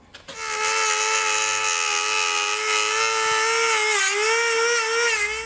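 A high-pitched power tool whines steadily as it cuts through a plastic underbody panel on a 2019 vehicle, its tone holding level and then dipping briefly under load before recovering, close and continuous.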